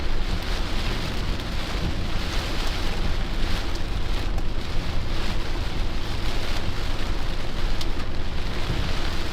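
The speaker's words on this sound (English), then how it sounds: "Heading through northwest Indiana right now. Big time wind, man." Strong derecho wind and heavy rain in northwest Indiana, a loud, constant roar of gusting wind and pounding rain that barely varies, close and overwhelming, with no voices.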